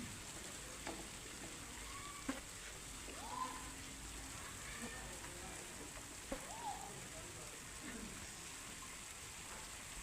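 Rain falling outside a mud house, a faint steady hiss with a few scattered drips and knocks, and brief faint calls or voices in the background.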